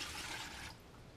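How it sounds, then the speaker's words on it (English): Rinse water from a bedpan splashes and pours into a toilet, a brief close liquid rush that fades into a quieter trickle, with no voices. "We'll deposit the rinse water into the toilet as well."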